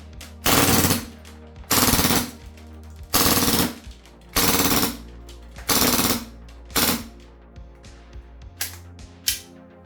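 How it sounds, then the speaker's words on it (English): A Kingdom KG-9/TEC-9 gas airsoft gun fires a series of short, loud full-auto bursts up close, about eight rapid rattling volleys separated by brief silences, the final ones shorter and weaker. "In full auto, it does zippy bursts,"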